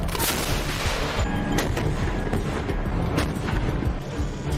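Dense, continuous gunfire from a war-movie battle scene right after an order to fire: overlapping shots and blasts form a loud, unbroken barrage with no voices.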